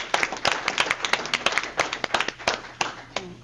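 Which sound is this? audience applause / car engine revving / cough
audience applause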